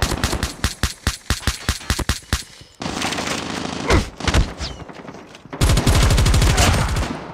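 Pistol fire in Call of Duty, heard as a fast run of sharp, loud shots evenly spaced, then denser volleys and overlapping gunfire later on.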